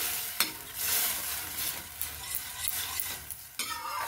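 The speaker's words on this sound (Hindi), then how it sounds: "अब जो हमने दाल को उबाल के रखा है वो डाल देंगे इसमें अच्छे से मिक्स कर देंगे" Boiled arhar dal stirred into fried spices in a pan for a dhaba-style dal fry, a continuous sloshing sizzle with repeated spoon scrapes and knocks against the pan, close and steady, no talking.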